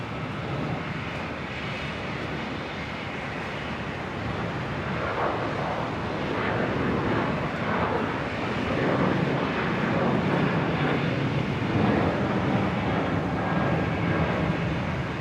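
Jetstar airliner departing Brisbane airport, its jet roar building gradually from a moderate rumble to a louder, fuller wash of engine noise that holds steady toward the end, with no voices.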